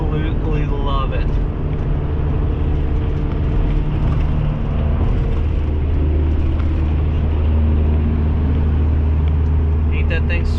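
A truck pulling trailers rumbles down the road, a steady, loud, close low engine drone that holds for the whole stretch, with no spoken words heard.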